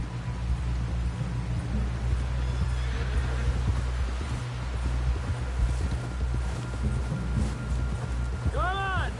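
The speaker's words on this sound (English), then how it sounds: "Someone help John down off this horse." A horse in a Western video game whinnies and clip-clops along at a steady gait, heard under a constant wind-like noise, with voices talking over it.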